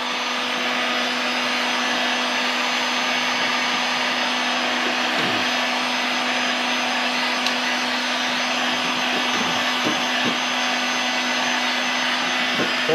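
Heat gun blowing on shrink wrap around a 20oz skinny sublimation tumbler, a steady whooshing hum with a constant motor tone running unbroken and close for the whole stretch.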